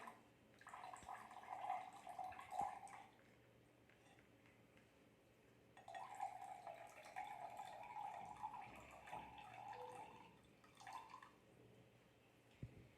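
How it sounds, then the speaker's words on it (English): Clear water poured gently from one glass into another during a sand-and-water decantation experiment, giving two soft, quiet trickling runs separated by a pause, with no talking. "Take another glass and pour this clear water very gently without disturbing the sand."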